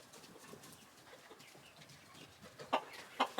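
Bjurholm cold-proof chickens, an old farm breed, cluck a few times near the end over a quiet, faint background.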